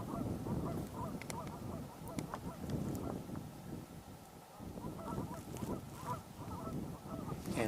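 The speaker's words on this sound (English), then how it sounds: "we definitely have some American widgeons here. Oh, those are mallards. Mallards right there." Mallards and American wigeons on open water give a steady stream of honking, quacking waterfowl calls, a busy mix of near and distant birds throughout with faint voices in the background.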